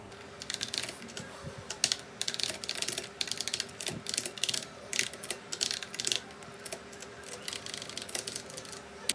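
Keys clatter on a computer keyboard as a prompt asking for an essay on global warming gets typed, steady bursts of clicks with short pauses, fairly close and quiet, no voice over it.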